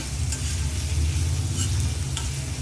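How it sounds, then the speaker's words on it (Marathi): Onion sautéing in a pan until pink, a continuous close sizzle with a low rumbling hum beneath and a couple of faint stirring clicks, no talking. "कांदा पण छान असा आपण गुलाबी रंगावरती ना असा परतून घेऊया"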